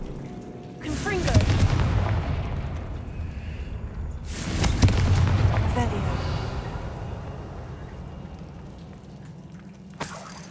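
Confringo blasting spells in Hogwarts Legacy on PS5, two heavy booming explosions each trailing into a long rumbling decay with debris, then a sharp crack near the end, with no speech.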